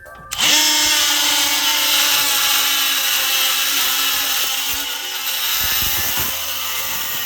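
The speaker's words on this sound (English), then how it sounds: "Here is some copper pipe, 1/2 inch." A DeWalt 12V oscillating multi tool cuts through 1/2 inch copper pipe with a loud, steady, high buzzing whine that starts abruptly and holds, dipping slightly near the end, close up, with no talk.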